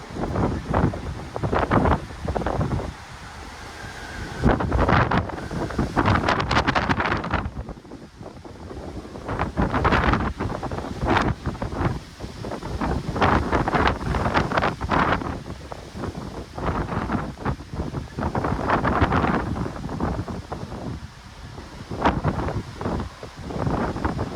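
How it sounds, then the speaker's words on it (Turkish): Strong, gusty storm wind in Halifax roars and buffets the microphone continuously, rising and falling in loud surges throughout. "inanılmaz bir rüzgar var şu an"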